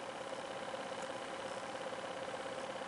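A homemade eight-transistor motor charging a 12-volt battery runs with a steady, even mechanical hum and a fixed whine, close and unbroken throughout, with no voice.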